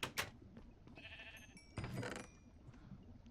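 Sheep in Minecraft give quiet bleats with a couple of short clicks of game sound effects, fairly faint and without talking.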